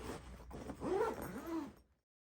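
A zipper drawn closed along an RKA luggage bag, its runner staying attached to the track, gives a brief close rasping pull of about two seconds that swells midway and then stops.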